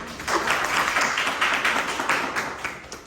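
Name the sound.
students clapping in a lecture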